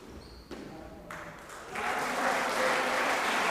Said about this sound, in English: The crowd, you can hear, really getting into this one.